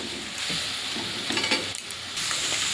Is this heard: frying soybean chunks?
yes